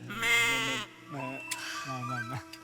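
A person imitates a goat's bleat with three wavering, nasal bleats, the first long and the next two shorter, close and clear, with a brief pause between them.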